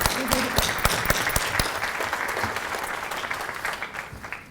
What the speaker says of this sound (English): I want to hear a round of applause.